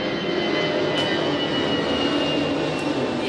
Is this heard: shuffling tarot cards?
no